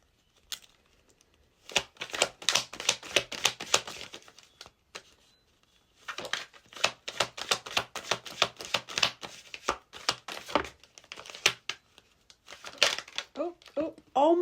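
Tarot cards being shuffled in repeated riffling bursts, a long run of crisp papery flutters, a pause, then a second run, close and fairly loud with no talking over them.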